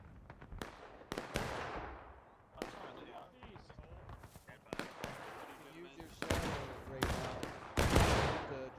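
Artillery shots land in the Civil War game War of Rights, a sequence of sharp, booming impacts scattered over several seconds amid massed musket fire and battlefield noise, with players talking throughout.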